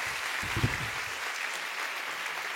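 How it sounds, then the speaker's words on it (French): Audience in a Paris theatre, the Trianon, applauds during a live comedy show, a steady broad roar of clapping throughout, with a brief low voice murmur near the start. "on peut applaudir le meuble à questions"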